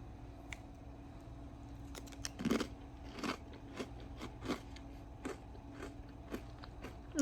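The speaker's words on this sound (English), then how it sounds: "They're very thick and obviously very crunchy." Someone eats thick Kim's Crunch Cut chips, producing a series of sharp, close crunches and bites at irregular intervals over a quiet room hum.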